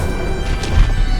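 Confringo spell in Hogwarts Legacy bursts as a loud short crash with a heavy low thump amid dense rumbling battle noise.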